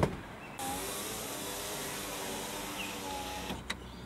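A car's power window motor whirs steadily for about three seconds as the glass goes down, close and alone, ending with a soft thunk as it stops.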